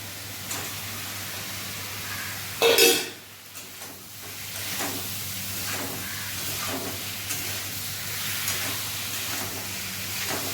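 Boiled potatoes tipped into a pan of spiced cauliflower curry, a brief clattering splash followed by ongoing steamy hiss and soft sizzling as the mixture cooks.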